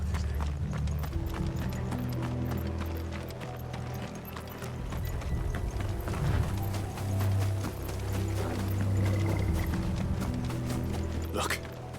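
Horses' hooves clip-clop in a steady rhythm in the Final Fantasy XVI video game, with low rumbling and people talking over the hoofbeats.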